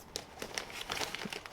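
Scissors snip and crinkle through a plastic bag to cut a slot, giving a close, quiet series of short rustling crackles with no speech.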